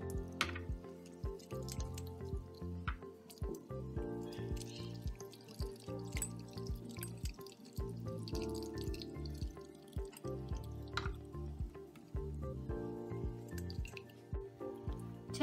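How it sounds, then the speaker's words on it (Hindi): Fresh chhena cottage cheese being rinsed under cold running water, with irregular splashes, drips and squishy handling sounds recurring throughout, close up and without speech. "छानने के बाद हम इस छेना को ठंडे पानी से अच्छे से धो लेंगे"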